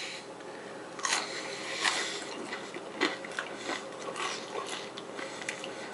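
Crunchy seasoned french fries being bitten and chewed, a series of faint crisp crunches spaced irregularly over quiet room tone.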